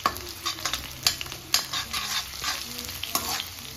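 Onions, green onions and vegetables stir-frying in a pan at home, with steady sizzling and repeated scraping stirs of a spatula, close and moderately loud with no talking.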